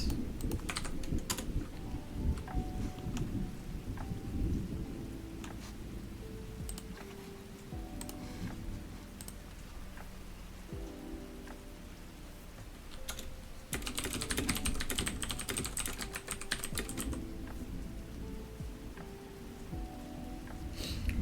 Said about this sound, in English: Got my nice mechanical keyboard going today.